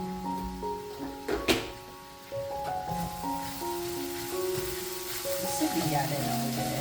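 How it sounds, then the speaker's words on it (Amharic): Cauliflower with eggs frying in a pan, a steady close sizzle with a few clacks from stirring, while a person speaks over it. "እዛ ይኸው ቆንጆ ሆኖ ጥብስ እያለ ነው።"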